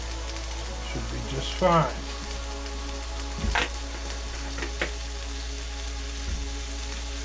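Kabobs laid onto a hot grill give a steady sizzle and frying crackle throughout, with a brief louder burst as they hit, a couple of sharp clinks, and a voice speaking briefly.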